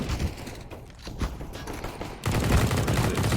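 A MAC-10 and a pistol exchange fire in a CS:GO match: rapid muffled bursts and cracks build into a louder, dense fusillade in the second half, with no talk over it.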